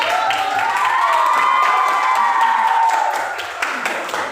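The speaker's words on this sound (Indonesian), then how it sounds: "Oke, kita berikan aplaus kepada" Classroom applause for a teacher during a teaching practice session, a steady wash of clapping with some cheering and children's voices, loud and continuous for several seconds before easing slightly at the end.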